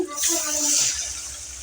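Water from a glass pours into a cooking pot, a short splashing rush that swells and then fades into a quieter trickle, heard close up with no talking.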